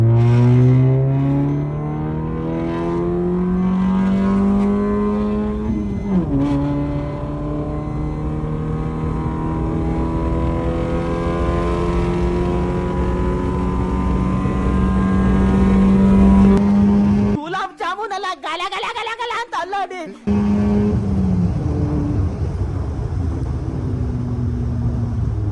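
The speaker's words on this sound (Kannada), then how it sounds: "ನೋಡಿ ಯಾವ ರೀತಿ RPM ರೇಸ್ ಆಗುತ್ತೆ ಅಂತ." A car engine revs hard as RPM climbs, its loud droning pitch rising steadily with a shift near the start and a short abrupt break before resuming.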